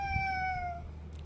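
A baby imitates a cat's meow with one drawn-out, falling, tonal mew, close and clear with no other talk.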